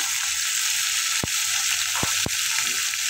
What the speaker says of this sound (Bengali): করলা ভাজি করবো এখন